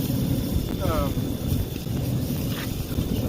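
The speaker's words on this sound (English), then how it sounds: "It's getting too windy all of a sudden." Gusty wind buffets the microphone with a loud, continuous low roar, and a voice speaks briefly beneath it.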